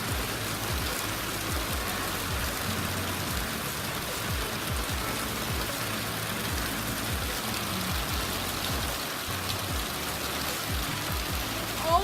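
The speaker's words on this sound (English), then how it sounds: "I'm gonna show you a video of how loud this rain was." Heavy rain pours down in a loud, steady roar, with dense hissing drops hammering a surface throughout and no letup or voices.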